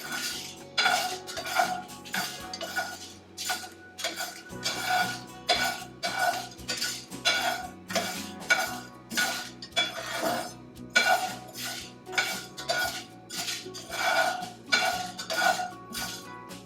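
A utensil scrapes and clinks against a pan as masala for Kashmiri dum aloo is stirred while roasting on slow heat, giving a repeated, steady scraping rhythm, close and fairly loud, with no talking.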